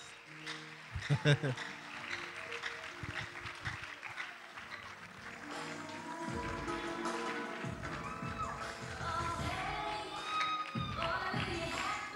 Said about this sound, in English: let's give them another round of applause. A round of applause, guys.